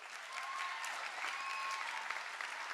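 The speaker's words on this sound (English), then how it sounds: "so a round of applause for them" An audience at a school winter concert claps steadily throughout, a soft, even wash of many hands with a faint tone running underneath.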